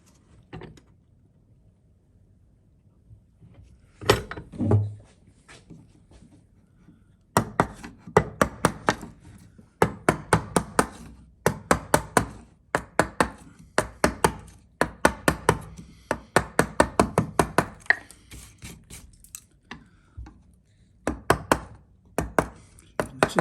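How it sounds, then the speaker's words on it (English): A chisel working wood to cut a bridle joint: sharp, rapid knocks and cuts come in dense, irregular bursts, loud and close, with a quieter stretch and a few separate strikes at the start. "Chisel to remove most of the material, and I'm going to flip the chisel around the other way, pressing down hard on the blade, working in from the front."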